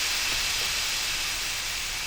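Liquid nitrogen in a bottle gives off a steady, loud, bright hiss that runs unbroken from start to finish without any pause or change, and no one talks over it.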